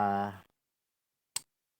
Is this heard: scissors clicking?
yes